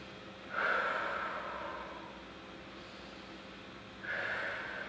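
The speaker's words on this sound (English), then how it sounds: "I'm going to take 2 more breaths." Two deep breaths taken during a slow stretching routine, each a long breathy rush of air, the first near 0.6 seconds and the second near 4 seconds, with quiet soft breathing between them.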